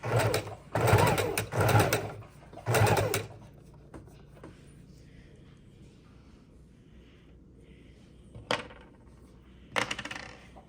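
A sewing machine runs on a wide stitch over fabric scraps for ruffles, three loud buzzing bursts of rapid needle chatter separated by pauses, then a quiet stretch and two shorter runs of stitching near the end.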